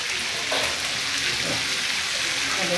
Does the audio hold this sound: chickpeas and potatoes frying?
yes